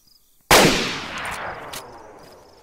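A single loud rifle shot in the DayZ video game, cracking suddenly out of silence and then rolling off in a long echoing tail.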